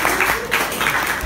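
An audience claps at a comedy show, a short burst of brisk, fairly loud applause that fills the moment alone.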